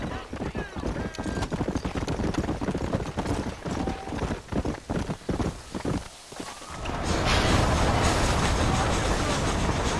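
Horse hooves clip-clop in a steady, close, repeating rhythm in the 2010 video game Red Dead Redemption, under a man's speech. A broad, rushing rumble like a passing train then takes over.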